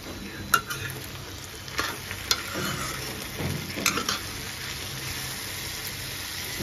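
Vegetable curry sizzles in a pan with turmeric, spices and salt, a steady frying hiss broken by several sharp scraping stirs of a spoon against the pan, close up and without talk.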